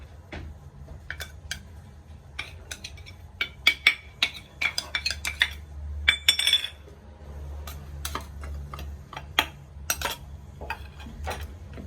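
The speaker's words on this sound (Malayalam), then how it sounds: "ഒന്ന് ഇളക്കി കൊടുക്കാം" A spoon stirs rava (semolina) cake batter for an eggless cake made without an oven, giving irregular clinks and taps against the bowl, clustered in quick bursts over a quiet room hum.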